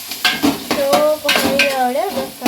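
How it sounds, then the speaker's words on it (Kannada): Red onions fry in a pan for a biryani, giving a steady close sizzle broken by repeated scraping stirs, with a faint tonal line running over the frying. "red onion fry"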